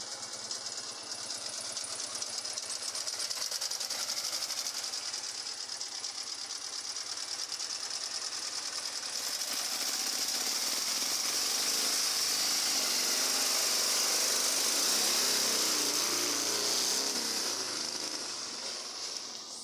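A small homemade retro trike engine, low-revving, runs continuously at a rapid, buzzing rhythm, rising to a strained, harsher full-throttle drone midway before easing slightly.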